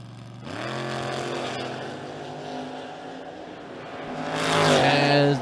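A Camaro and another drag car launch side by side at a dragstrip, engines revving with rising harmonic whine, loud and close, a second engine surging in near the end.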